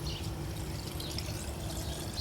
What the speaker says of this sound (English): Pour the water in.